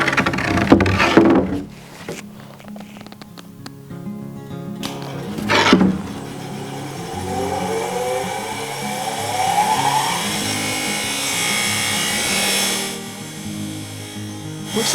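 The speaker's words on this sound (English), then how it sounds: "The grinder is now significantly louder." Harbor Freight Bauer 6-inch benchtop grinder with a wire wheel: sharp knocks and clatter, then a steady mechanical whir as the motor spins up and holds a droning, rough tone.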